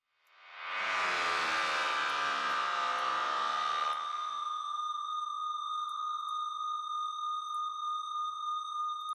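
A Valhalla UberMod reverb plugin with high feedback and drive swells into a harsh wash of noise, then narrows into loud, sustained, piercing resonant tones that ring on steadily.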